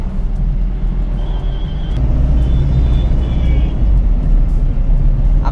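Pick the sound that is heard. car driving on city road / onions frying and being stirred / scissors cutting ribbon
car driving on city road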